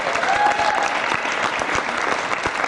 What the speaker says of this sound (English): if we could give him a giant round of applause